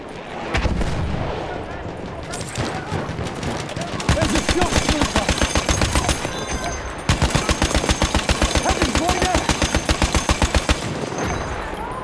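Close machine gun in Battlefield 1 firing long, rapid sustained bursts, loud and rhythmic, broken by a short pause and surrounded by distant battlefield booms and gunfire.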